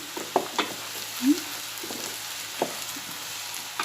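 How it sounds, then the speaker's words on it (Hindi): Onions softening in hot oil give a faint, low sizzle, broken by a few sharp clinks and scrapes of a spoon stirring the pan, with no voices. "सिर्फ नरम होने तक उसे तेल में ही करेंगे, भुनेंगे।"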